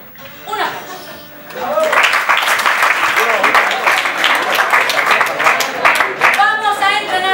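An audience at an improvisation theatre match claps loudly and steadily after a brief spoken line, dense applause sustained for several seconds with cheers and voices mixed in.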